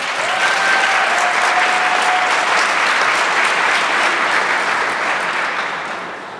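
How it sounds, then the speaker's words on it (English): Steady, dense applause from a large crowd at a union May Day event, loud and sustained throughout before easing slightly at the end. "Let's give him another round of applause."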